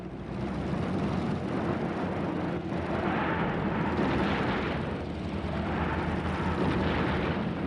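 A military plane flies over in a sustained, broad engine roar that swells and eases slightly, loud and steady throughout with no voices.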